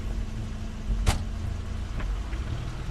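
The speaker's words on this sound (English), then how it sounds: "That's Crane's car." Crane's car arrives in the video game The Wolf Among Us, a low engine rumble idling steadily with a sharp knock or door-like thump partway through and a couple of fainter clicks after.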